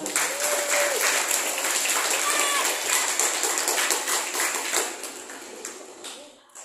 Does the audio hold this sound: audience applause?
yes